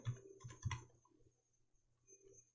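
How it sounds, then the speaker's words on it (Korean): Quick, light keystrokes on a computer keyboard as an exam number is entered at a test site, a few soft clicks in a short burst, then a pause with faint taps, quiet and close. "여기에다가 수험 번호를 입력합니다"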